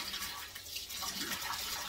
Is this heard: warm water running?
yes